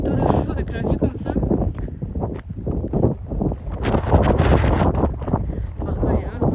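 Gusting wind buffets the microphone with heavy low rumbling, while a person talks underneath it.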